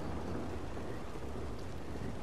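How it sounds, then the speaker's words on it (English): Steady rain with low rumbling thunder in Red Dead Redemption 2, a continuous broadband wash at even, moderate loudness with no one talking. "It's because it's raining."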